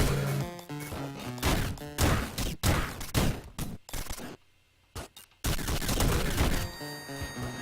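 In the video game Downwell, a laser weapon fires in rapid, loud bursts over game music, with a brief quiet gap midway before the blasts resume.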